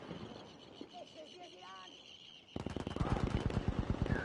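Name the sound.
gunfire in a video game match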